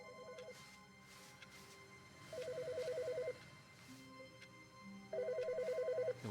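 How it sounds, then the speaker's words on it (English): A phone rings inside The Stanley Parable, three bursts of a bright electronic trill separated by short pauses, fairly faint with a quiet ambient backdrop and no talking. "Hey, why is her phone ringing?"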